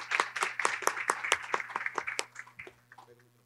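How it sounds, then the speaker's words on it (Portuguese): A small audience at a port logistics forum panel claps for a guest joining the table, a burst of moderately loud hand claps that thins out and fades away over a few seconds above a faint electrical hum. "Uma salva de palmas para a Rita."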